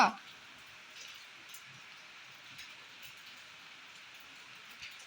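Faint, steady rain patters on a surface in a continuous hiss, quiet and even throughout, with occasional tiny drips standing out.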